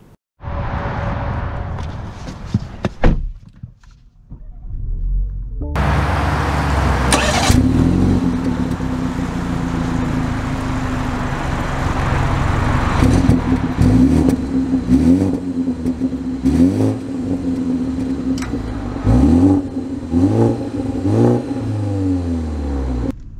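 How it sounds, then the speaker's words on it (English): A 2023 BMW 330i 3 Series starts up and drives off: a short burst of engine noise, a brief quiet gap, then the engine revs and keeps a loud, steady run with occasional surges, close by. "Let's see how the 3 Series drives."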